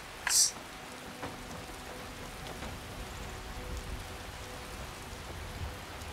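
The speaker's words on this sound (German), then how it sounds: "Es regnet, es regnet." Rain falls steadily in the video game Skyrim, a soft continuous hiss of drops with a faint distant thunder rumble, one brief bright chime near the start, no voices.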